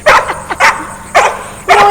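A German Shepherd barks in four sharp, loud bursts spaced evenly apart, close by, at a search and rescue seminar, with no talk over it.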